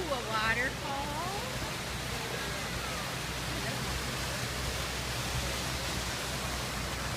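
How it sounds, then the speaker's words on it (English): A waterfall at Disneyland Paris rushes in a steady, broad hiss of falling water, continuous and fairly close, with a brief voice at the start. "Ooh, a waterfall."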